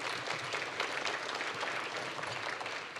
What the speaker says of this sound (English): let's give Hope a big round of applause here.